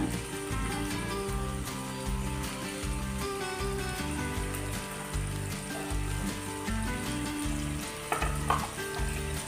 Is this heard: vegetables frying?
yes